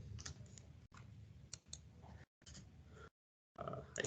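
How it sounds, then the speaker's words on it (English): Typing on a computer keyboard while entering LaTeX code. Short runs of quiet, close clicks break off into pauses and brief silences. "So let me type here something."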